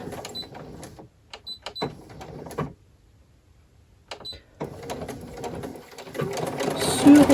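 A sewing machine stitches a folded bias binding onto thick fabric for a jacket, its motor running in short bursts separated by pauses, with a longer steady run at the end.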